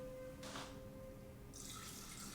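Spring water is poured into a Nama J2 juicer: a short splash first, then a steady, bright rushing hiss of pouring liquid that continues to the end, with no talking.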